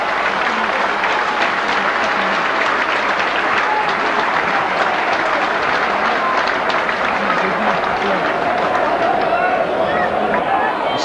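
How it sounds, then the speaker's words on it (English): A football stadium crowd keeps up a long, steady round of applause for a player being substituted, broad and distant clapping blended with crowd hubbub throughout, and a commentator speaking over it. "Ray Woods getting a good round of applause."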